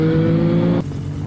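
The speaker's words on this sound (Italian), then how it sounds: "Arrivano le moto scorreggianti!" Loud motorcycles pass close by on a mountain road, their exhaust producing a steady, throaty engine drone that cuts off sharply and drops to a quieter rumble partway through.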